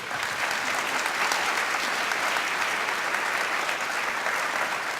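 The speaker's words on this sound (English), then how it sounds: "Please give them a big round of applause." Sustained applause from a large crowd at the Social Good Summit, steady and dense clapping throughout without a break.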